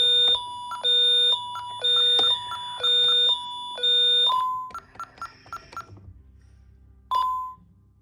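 A Honeywell Vista security keypad sounds its medical panic alarm: a loud, repeating pattern of sustained electronic tones in regular bursts, then a run of short beeps and a final chirp, with no talking.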